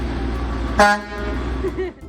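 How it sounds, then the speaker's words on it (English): A single short car horn toot sounds nearby, set against steady traffic and background noise. "Can I get a honk?"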